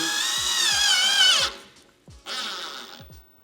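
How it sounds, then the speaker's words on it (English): A power drill driving a self-tapping screw whines up in pitch, winds down, then spins again in a second shorter burst, loud and close, with light clicks underneath. "get your self-tapper, your drill, and just gently put it in"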